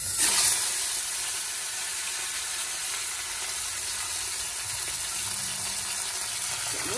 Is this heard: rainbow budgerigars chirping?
no